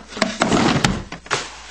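Wooden drawer slides and knocks with a series of close, loud thumps and scrapes, rattling as it is pulled open.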